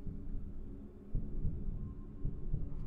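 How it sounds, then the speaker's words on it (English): Low, throbbing heartbeat pulses from the video game Bendy and the Dark Revival, repeating steadily over a dark ambient hum, with no talking. "That's the heartbeat, right? And not just ambiance."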